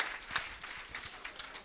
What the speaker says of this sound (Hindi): एक बार जोरदार ताली दीदी के लिए बजाइए सर।